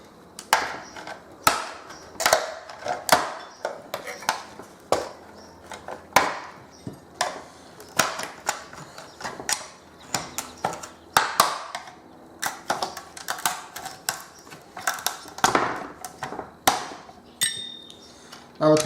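Extruded aluminium pieces are pried off a circuit board with a screwdriver, giving sharp metallic clicks, snaps and scraping knocks in irregular bursts, close and fairly quiet.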